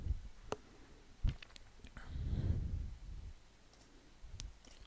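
A computer mouse clicks a few times while a file is opened in the Unity scripts editor, giving sharp, quiet, isolated clicks over a low background rumble.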